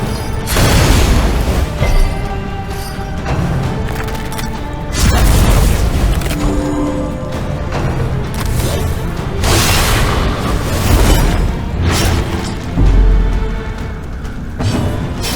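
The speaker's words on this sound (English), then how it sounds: "I'm gonna try to let him up to the front row so you can see how devastating this explosion is." Heavy explosion blasts from the video game Darkest Dungeon 2: a loud booming burst at the start, another around the middle and a third near the end, with dense rumbling combat noise between them and no talk.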